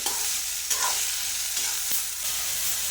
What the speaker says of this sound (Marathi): पाच मिनटं भेंडी चांगली परतली